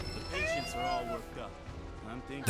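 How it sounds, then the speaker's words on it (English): A cat's meow with a pronounced echo from the game Final Fantasy VII Rebirth, a drawn-out wavering cry that trails off, heard under a voice talking. "That sound effect, specifically the echo on the meow"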